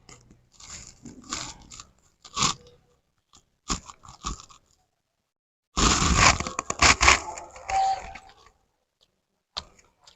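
Crunchy bites and chewing of hilsa fish paturi, steamed in leaf, in short bursts with pauses between, close to the mic and fairly loud, no talking.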